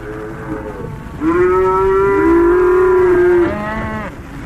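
A cow moos loudly and close up, a long drawn-out low bellow with a shorter call before it, heard on its own.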